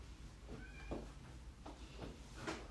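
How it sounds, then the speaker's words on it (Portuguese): A cat meows by a door inside a home, several soft drawn-out meows spaced a second or so apart, faint and somewhat distant against low background noise. "eu só vou abrir a porta para um gato sair aqui"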